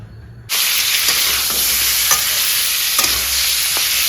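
Pieces of pork hit hot mustard oil in a wok for a pork curry, bursting into a loud, steady sizzle with faint scraping taps as the meat is stirred.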